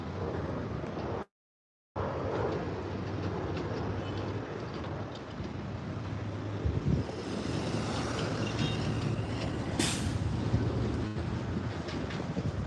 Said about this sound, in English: That's trucks, semi-low trucks, big trucks